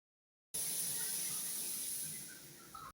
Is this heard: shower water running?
yes